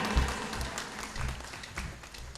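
Applause from an audience at a public commemorative gathering, a brief burst of clapping with a few sharp low thumps, moderately close and fairly steady, with no voices over it.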